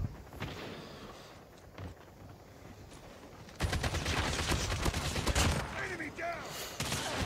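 ASM10 assault rifle gunfire in a Call of Duty match, rapid automatic bursts that grow louder and denser midway, with footsteps and other game effects around them.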